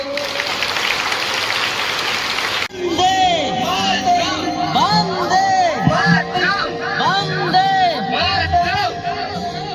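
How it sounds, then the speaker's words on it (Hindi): Loud, dense applause from the audience at an Independence Day program in a village government school, rushing for a few seconds before cutting abruptly to music and voices with a lively crowd. "एक बार जोर से तालियां बजाओ।"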